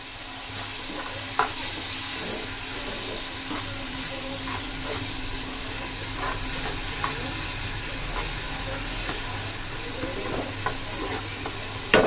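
Tomatoes and onion simmer in tamarind juice in a pan for Andhra-style egg pulusu, a soft steady sizzle and hiss with a few faint clinks, close and quiet with no talk.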